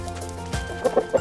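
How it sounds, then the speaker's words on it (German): A hen on an animal sanctuary farm in the Palatinate gives a few short, nearby clucks near the end, over a soft background. "hier haben wir immer ein Huhn, was sich immer hier reinschleicht und in dieser Tonne ihr Ei legen möchte"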